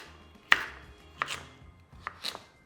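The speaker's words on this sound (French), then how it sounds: "on va le couper en cubes avec la peau" A knife cuts through red kuri squash with the skin on, dicing it into small cubes on a board: four sharp, separate thuds spaced out irregularly, close and fairly quiet.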